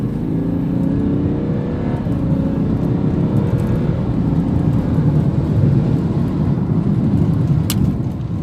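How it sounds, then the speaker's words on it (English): A Stage 1 tuned BMW in sport mode accelerates at full throttle with a deep, loud engine roar heard from inside the cabin, rising in pitch as automatic gearbox shifts come through, and no speech. "So here we are in sport mode. I'll floor it."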